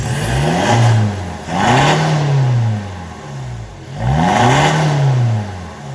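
A 2014 Isuzu Mu-X SUV with an aftermarket full CNC-bent exhaust revs up and settles back down three times in a rhythmic pattern, a deep, fairly loud exhaust note rising and falling.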